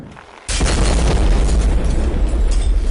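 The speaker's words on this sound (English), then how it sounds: "Grenade." A grenade explosion in the video game Happy Wheels booms suddenly and loudly, followed by a sustained dense rumbling roar that fills the rest of the moment.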